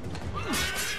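A horse in the Assassin's Creed III video game gives a clear, rising neigh over steady background game ambience, with a faint clip-clop of hooves around it.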